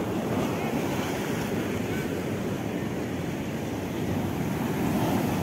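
Sea waves wash over a rocky shore in Goa in a continuous broad roar, loud and close, with a steady wash of surf and wind and no clear breaks.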